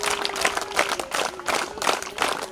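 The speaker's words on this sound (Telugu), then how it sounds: "మీ క్షేమం కోరి వచ్చిన ఈర్మార్ మల్లన్న గారికి మనం అందరం స్వాగతం చెప్పాలి చప్పట్లతో" Schoolchildren at a government school event clapping to welcome Teenmar Mallanna: loud, pulsing crowd applause with rhythmic surges, continuous throughout, with a faint tone running underneath.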